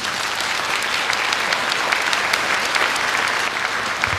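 A lecture audience applauds Chen Danqing after his talk on mother tongue and motherland, a steady, dense wash of clapping from many hands that fills the room without a break.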